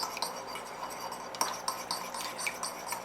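Garlic is stirred in a pan for Yorkshire puddings, with light metallic clinks and scrapes of a utensil against the pan in an irregular rhythm, close and fairly quiet with no talk.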